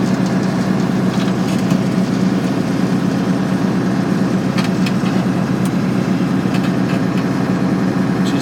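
An Allis Chalmers 200 tractor idles steadily in January, its constant low engine chugging close and loud, with a few faint clicks and knocks over the top.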